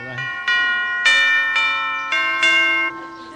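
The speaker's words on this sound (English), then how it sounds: "Well, ring the bell, then." A doorbell-style bell rung at the entrance of a holiday camp, several bright ringing strikes in quick succession, each with a sustained harmonic tone, close and fairly loud with no talk over it.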